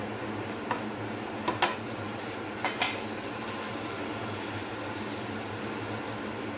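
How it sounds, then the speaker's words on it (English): Pork and prawn wontons being stirred in a pot, a handful of light utensil clinks against the pot over a steady, hissing bubble of cooking water, with no talking. "So just make sure you give them a stir until they start cooking."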